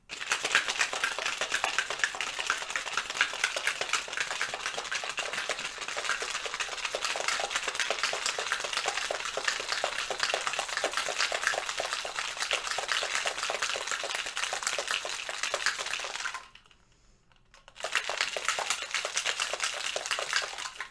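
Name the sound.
shaking a daiquiri cocktail with ice in a shaker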